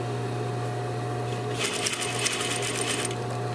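A sewing machine stitches the curved lining of a pocket in a burst of fast, rattling needle strokes starting midway, close and steady over a low motor hum.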